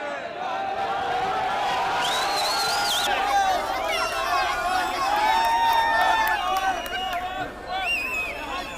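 A crowd's murmuring, shouting reaction to hostages being handed over to the Red Cross, with raised voices and whistle-like cries swelling over steady babble.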